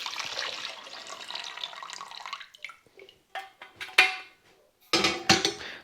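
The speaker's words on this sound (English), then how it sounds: "you might have some water already in the kettle, so I always just empty it out" Water poured out of an electric kettle into a sink, a steady splashing stream for over two seconds, then a few separate clattering splashes and drips as the kettle is tipped and set down, close and fairly loud.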